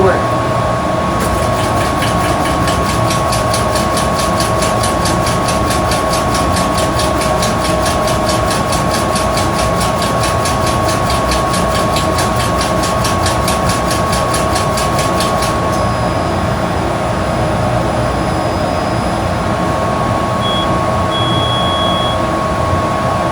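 Trotec Speedy 400 laser engraver cutting and engraving, a constant loud mechanical hum and fan whir with a fast rhythmic ticking pulse for most of the stretch, then a few thin tones as it finishes.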